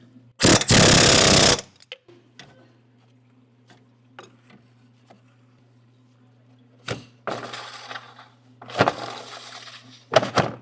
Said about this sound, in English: All you need is an air hammer, long bit